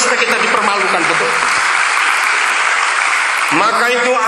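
Audience applause fills a church gathering during a talk, a dense steady clapping that stays loud for about four seconds, with a voice breaking through near the start.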